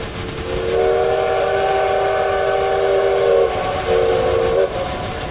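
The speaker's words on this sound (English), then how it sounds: "Just blow the whistle." A steam train's whistle blows in one long, steady, loud blast for about three seconds, then sounds again briefly after a short gap, over a low rumbling background.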